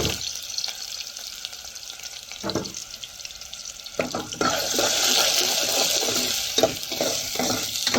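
Onions frying in hot oil in a pan for sarson ka saag, a quieter crackle at first that jumps into a loud, continuous sizzle midway, with stirring scrapes throughout.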